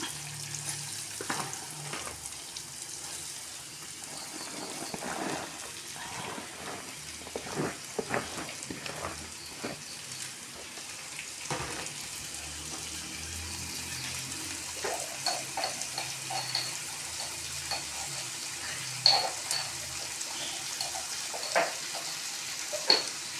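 Chopped button mushrooms fry in oil with mustard seeds, dried red chillies and curry leaves, giving a soft, quiet sizzle broken by intermittent scraping stirs of a spoon in the pan.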